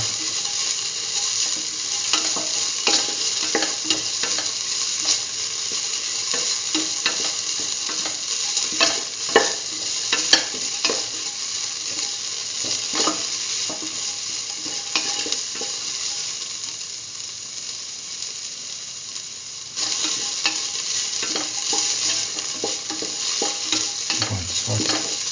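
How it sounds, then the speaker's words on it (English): Potato and cucumber sautéing in a pan, a steady close sizzle with repeated spatula scrapes and stirs throughout, no voices. "Saute."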